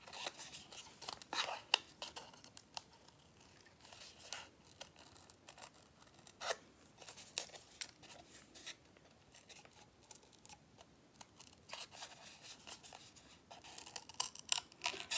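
Scissors snipping paper as a small bird shape is cut out for a mixed media craft, quiet close crisp clicks and slicing strokes in irregular bursts, with no voices.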